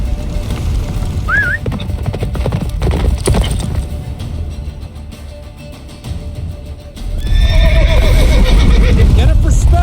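Roach, the horse in The Witcher 3, gallops with a steady run of hoofbeats under a short whinny early on, then a louder, longer neigh near the end, with game voices speaking over the action.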